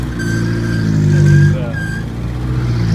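The engine of a 1980 Chevy Luv truck idles high, a loud, steady close hum with a slight rise in pitch midway, under a voice.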